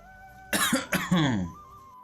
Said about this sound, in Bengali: পাশে গিয়ে একটু কাশি দিলাম।